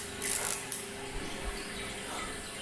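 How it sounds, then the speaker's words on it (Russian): Running water in the horror video game At Dead of Night, a steady trickling wash with a couple of brighter splashy bursts near the start, moderately close and fairly soft. "Я слышу звук воды справа."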